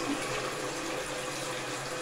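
A toilet flushes after a sink vent is opened, giving a loud, steady rush of water that runs alone and close by.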